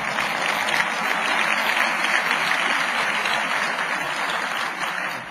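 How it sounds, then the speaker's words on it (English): A political event audience gives sustained, dense applause for House Republican leadership, with steady, even clapping that fills the room throughout and no speech over it. "Let's give a round of applause to the leadership of our House Republicans."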